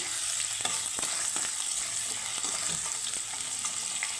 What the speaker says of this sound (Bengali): আলুটা একটু হালকা করে ভেজে নিলাম